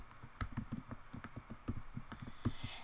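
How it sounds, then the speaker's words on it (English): Typing on a computer keyboard, a quick irregular run of soft close key clicks and taps, fairly quiet with no voices. "Now I'm going to go ahead and type my name."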